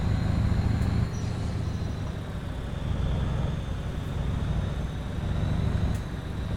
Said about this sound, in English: Ah, I'm gutted my truck sounds poo.